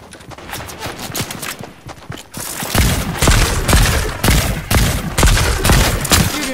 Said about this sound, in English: I'm definitely receiving gunshots